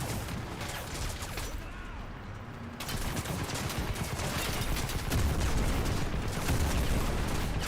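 A tank blows up amid gunfire in Crysis Remastered, a dense, loud wash of crackling shots and blast noise that swells and stays continuous throughout.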